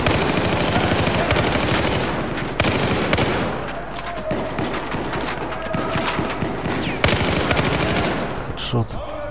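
Rapid automatic gunfire in the video game Battlefield 4, loud and continuous with dense overlapping bursts and a few sharper shots, no talk.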